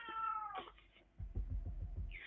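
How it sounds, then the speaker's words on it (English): A close, clear meow from an orange feral cat with a drawn-out tone, then soft low thumps and rustling, and the start of another meow at the end. "I have an orange cat visiting me."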